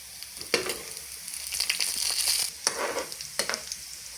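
Cumin seeds hit hot oil for a moong dal tadka, giving a close, steady sizzle with sharp crackling bursts and spitting pops, no voices over it.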